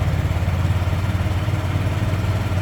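A Honda motorcycle engine runs at a steady idle close by, an even low throbbing rumble with light mechanical clatter and no voices over it.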